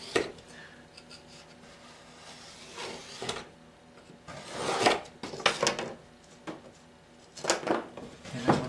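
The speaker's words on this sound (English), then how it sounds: "I'm going to use an X-Acto knife for this" X-Acto knife cutting the edges of a clay slab for a square plate, heard as a series of close, soft scraping strokes and light taps, irregularly spaced, with quiet gaps between them.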